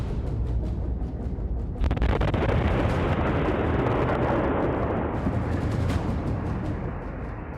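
An explosion wrecks the Naugam police station in Srinagar, Jammu and Kashmir: a sudden loud blast breaks into a sustained, heavy roar and rumble that carries on for several seconds before easing slightly.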